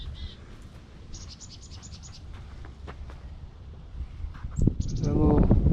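A small bird chirps outdoors at a garden property after yard trimming, with a few brief high tweets in a quiet yard before louder rustling and a voice take over at the end.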